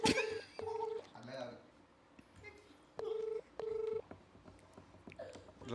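A phone keypad sounds a series of short touch-tone beeps as a number is dialed for a prank call, with separated tones in an uneven rhythm and brief voices between them.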